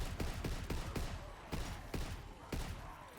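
A toggle-action rifle in Call of Duty zombies fires rapid shots, roughly two or three per second, each a punchy crack within a dense, loud game soundscape.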